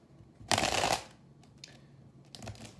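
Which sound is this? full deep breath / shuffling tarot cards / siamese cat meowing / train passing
shuffling tarot cards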